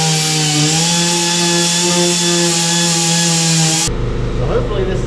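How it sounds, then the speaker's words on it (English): A steady, high-pitched motorized whine of a power sander on Lexan windows for a WK1 build runs continuously, then cuts off abruptly near the end, leaving lower rumbling noise. "when you're sanding this, make sure it's rotating clockwise or down towards the table"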